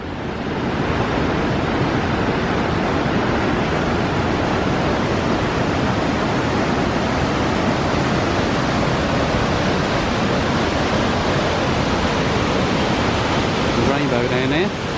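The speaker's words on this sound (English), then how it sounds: "the other side of the bridge is a big waterfall." A big waterfall at Corrieshalloch Gorge in the Scottish Highlands, seen from a bridge over the drop, roars in a dense, unbroken wash of loud white noise that lasts throughout, with no pauses.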